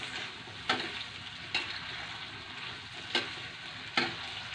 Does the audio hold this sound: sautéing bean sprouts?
yes